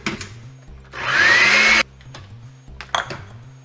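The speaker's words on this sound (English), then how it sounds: "pour in some milk, and then mix it up in the blender." A blender mixing banana and milk whirs loudly for about a second, cutting off abruptly, with quieter clattering and handling noises before and after.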